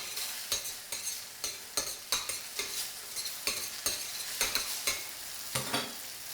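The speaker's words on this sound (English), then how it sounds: "Again, we're not pan frying the pasta, we're just sauteing it." Pasta being sautéed and tossed in a pan, with a steady fry sizzle broken by repeated scraping and stirring strokes, close and moderately loud, with no voices.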